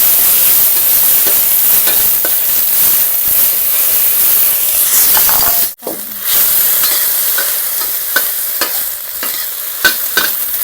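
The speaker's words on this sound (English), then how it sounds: "Just saute it a little bit" Loud, continuous sizzling and hissing of food being sautéed in a wok, with stirring scrapes and a brief sharp clatter midway before the frying hiss carries on.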